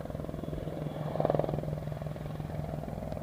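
An RC model Apache attack helicopter flies nearby with a steady, rapid rotor chop and a constant motor drone that swells slightly midway.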